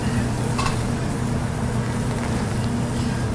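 Vegetables for pancit noodles, including onions, Napa cabbage, baby bok choy and green beans, stir-frying in a hot pan: a loud, steady hiss and sizzle throughout.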